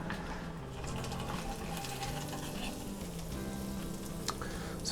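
Cheese curds deep-frying in hot oil near 375 degrees, a steady close crackling sizzle with scattered pops, no talking.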